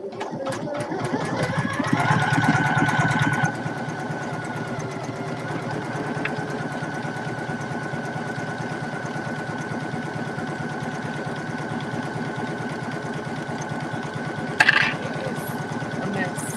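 A Poolin EOC06 single-needle embroidery machine stitching a patch, giving a steady, close mechanical whir with a fast rhythmic needle chatter that runs without a break, slightly louder near the start, with a brief knock near the end.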